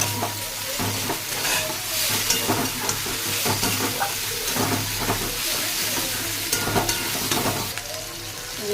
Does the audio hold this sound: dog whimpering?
no